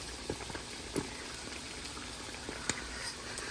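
Tofu deep-frying in reused oil, earlier used for potatoes and then strained, bubbles quietly and steadily with scattered soft pops and crackles.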